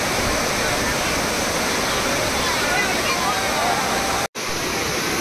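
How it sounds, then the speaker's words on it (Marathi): Water overflowing Bhushi Dam in Lonavala during monsoon rain, a loud continuous roaring rush of cascading water that fills everything, broken only by one momentary gap. "हा प्रसिद्ध सुंदर भुशी डॅम सध्या पूर्णत्वाने ओसंडून वाहते आहे।"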